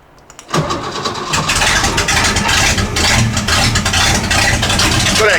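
A cammed-up 1963 Ford Falcon barn find cranks and catches about half a second in, then runs loud and rough with a lumpy idle for several seconds, close up with no talking.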